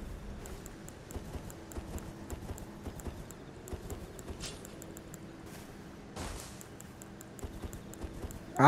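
A horse's hooves clip-clop in the Elden Ring video game, a quiet, even trot of soft repeated thuds that continues alone for several seconds, with a brief louder burst at the end.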